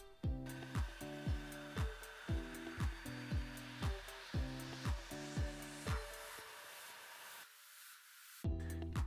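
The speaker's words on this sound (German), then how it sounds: "Nun musst du oben die Klappe öffnen und die Folie an der Stelle mit dem Föhn erhitzen." Hair dryer heating vinyl wrap film during interior foil work on an Audi A4/S4/RS4 B7 switch panel, heard as a steady close blowing hum with regular rhythmic pulsing, then briefly cutting out before resuming.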